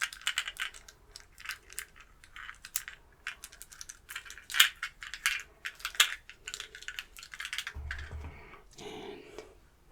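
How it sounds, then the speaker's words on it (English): Someone handles a work badge and rummages through a bag up close. Plastic clicks, crinkles and sharp taps come in irregular bursts, with scraping and shuffling between them, at a soft, intimate level. "I have another bit of a work badge. That makes kind of a fun noise"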